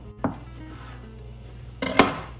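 Knife cutting strips from a rectangle of grissini breadstick dough on a board, two short distinct chopping knocks with a soft scrape between, close and clear.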